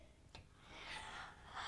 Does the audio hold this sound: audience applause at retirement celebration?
no